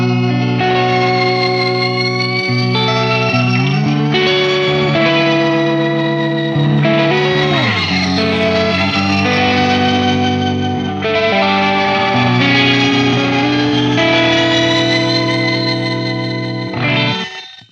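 An Old Blood Noise Endeavors Excess V2 distortion and chorus pedal with its expression ramper engaged plays a loud, sustained, effected guitar tone that swells and sweeps slowly in pitch, continuous for the whole stretch with no talking.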